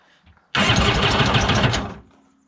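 A mini jet boat engine cranks over rapidly during a compression test for about a second and a half, rough and close, then stops abruptly.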